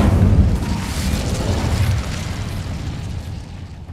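An Incendio fire spell in Hogwarts Legacy erupts in a deep, booming blast that rumbles low and loud at first, then slowly fades into a lingering roar.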